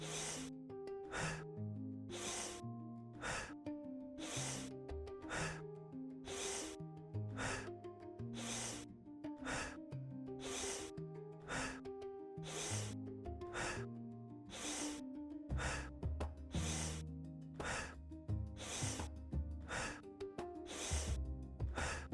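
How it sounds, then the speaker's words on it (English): Rapid Tummo breathing, a long run of forceful rhythmic inhales and exhales at a steady fast pace, close to the microphone, over soft music underneath. "now we go on to the third round of Tummo breathing"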